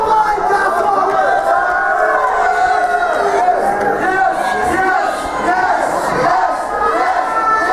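A wrestling crowd packed into the Marine Hotel in Ballycastle cheers and shouts continuously, a dense wall of excited voices and chants swelling steadily throughout with no break.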